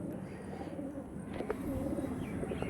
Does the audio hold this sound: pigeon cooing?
yes